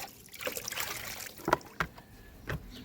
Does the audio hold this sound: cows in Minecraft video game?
no